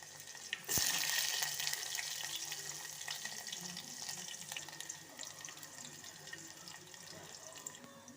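Onions and curry leaves fry in hot oil, a steady bright sizzle that surges loudly near the start and then settles into a softer, continuous hiss.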